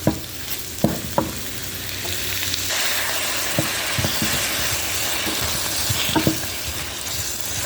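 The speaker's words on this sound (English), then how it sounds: "hear that nice sizzle." Food sizzles and crackles steadily in a hot pan being deglazed with red wine, with a few sharp clinks of a utensil against the pan near the start and end.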